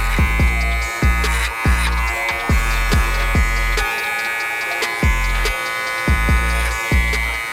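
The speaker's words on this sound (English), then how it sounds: "I like to grab a comb and kind of feed it into the clipper." An electric hair clipper buzzes steadily, cutting a skin fade, with a comb feeding the hair in; sharp repeated clicks and snips recur at a rough, uneven rhythm over the close, continuous hum.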